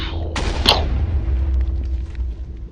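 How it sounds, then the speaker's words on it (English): A single blocky TNT explosion goes off in a Minecraft Skyblock base: a sharp, loud blast followed by a low rumbling tail with small crackling debris sounds. "I only want to use one at a time because I don't want to damage his base, and I want to make it a controlled explosion"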